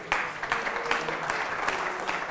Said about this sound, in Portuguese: Dê um aplauso ao Senhor, meu Deus.